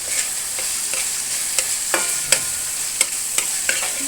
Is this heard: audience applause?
no